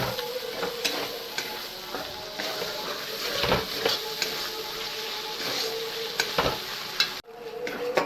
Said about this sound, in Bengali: দিয়ে ভালো করে মিক্স করে নিচ্ছি।